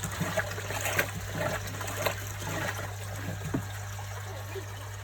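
Water drains steadily out of a garden pond filter, a soft continuous trickle and gurgle with faint irregular splashes over a low steady hum, fairly quiet and without voices.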